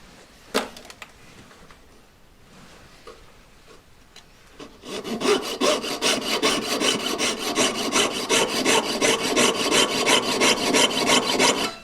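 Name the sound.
jeweller's saw sawing metal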